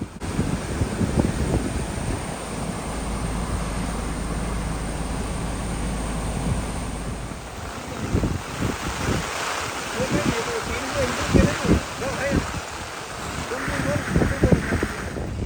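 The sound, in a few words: floodwater rushing through farm fields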